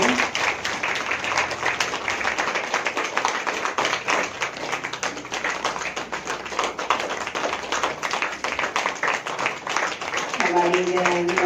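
Sustained applause from an audience at a women's day programme fills the whole stretch as a dense, even crackle of many hands, with a voice speaking faintly underneath.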